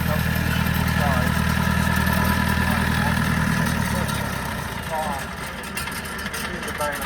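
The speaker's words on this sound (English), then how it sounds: "You see the baler coming along" A hay baler making traditional small rectangular bales, its spiked top wheel rubbing into the crop, runs steadily in a field with a loud continuous mechanical drone and rhythmic rumble that eases slightly, while someone talks over it.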